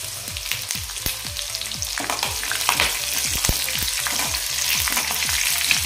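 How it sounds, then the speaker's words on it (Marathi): Slit green chilies hit hot oil with cumin and fennel for a bitter gourd dish, crackling and popping in a loud, dense sizzle with rapid sputters close by and no voices. "आता या मिरच्या घालते मी, 4 मिरच्या स्लिट करून घेतलेल्या मध्ये."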